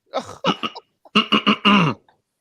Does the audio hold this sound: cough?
yes